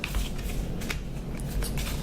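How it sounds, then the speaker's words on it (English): Cards from the Bitten board game, the secret identity cards, are shuffled by hand in a steady, close, continuous riffling rustle with no talking. "You're going to shuffle these up."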